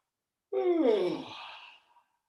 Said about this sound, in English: And now yawn.